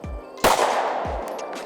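An IWI Masada Slim pistol is fired with iron sights at a 50-yard target outdoors: about three sharp, loud reports at irregular intervals, each with a ringing tail and echo. No talking.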